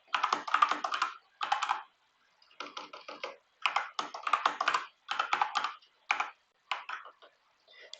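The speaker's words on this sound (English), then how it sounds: "So we enter the username, the admin username, and then the password." Quick bursts of typing on a computer keyboard as a username and password are entered, the close, crisp key clicks separated by brief pauses.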